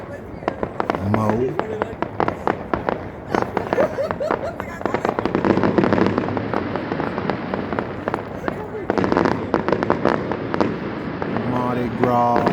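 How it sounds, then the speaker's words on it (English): Mardi Gras fireworks go off over the Washington, D.C. waterfront, with repeated sharp bangs and crackling bursts in irregular clusters, close and loud, while people talk and shout nearby. "firework display in Washington, D.C. today"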